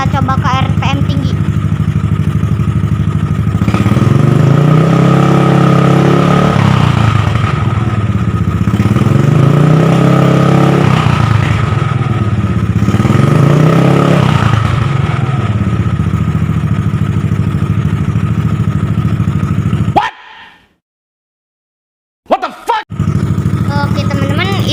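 Yamaha Mio Sporty scooter with a WRC aftermarket exhaust, its engine droning loud and close and swelling through several repeated revs before cutting off abruptly near the end, followed by brief clatter.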